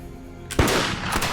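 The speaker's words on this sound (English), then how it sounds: "Why are they firing?" Musket gunfire sounds as a salute at an eighteenth-century parley. A loud sharp report is followed by a second shot and a rolling, echoing tail.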